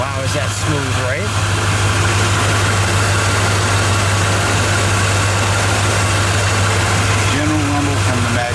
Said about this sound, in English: Let me let it idle for a second.